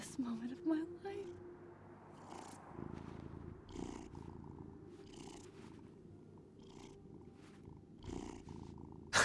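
A cat purring in the video game Life Is Strange: Double Exposure, a soft steady rumble that runs through the whole stretch, with a person talking over it at intervals.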